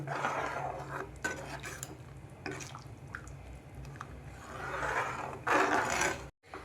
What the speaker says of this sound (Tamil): இந்த பேஸ்ட்லாம் நல்லா வந்து டிசால்வ் ஆகிற மாதிரி கலந்து விட்டுக்கோங்க.